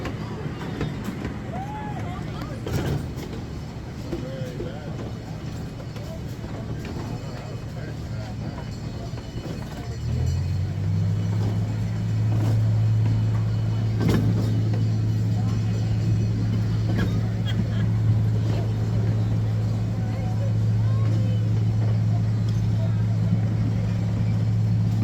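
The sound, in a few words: Loyalhanna Limited amusement park train ride rumbling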